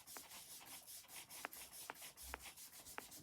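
A Woodware blending tool fitted with a foam sponge rubs ink from an older, drier pad onto card, giving a soft, steady close-up scuffing with a few sharp taps as it is dabbed and lifted.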